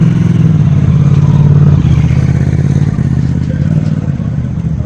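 A Morbidelli 250cc motorcycle engine idles close by with a loud, steady low rumble and light mechanical clatter that holds throughout.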